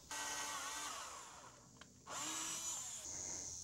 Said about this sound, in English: Drill your pilot hole at a slight angle up.